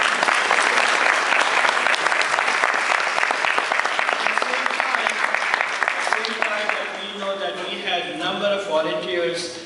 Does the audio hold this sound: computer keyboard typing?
no